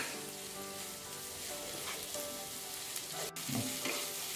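Vegetable fried rice with Schezwan chutney, salted and stirred in a pan, gives a steady sizzle with soft scraping of the spatula, continuous and close, no talking.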